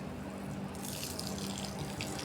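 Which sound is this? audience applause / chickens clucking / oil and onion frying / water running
water running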